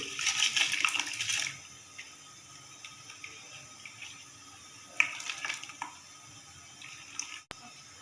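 Dry rice grains poured into a pot of water while making koyla karahi biryani, giving a bright rattling patter at the start, then softer scattered splashes and clinks nearby with no talking.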